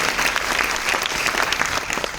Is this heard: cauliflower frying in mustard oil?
no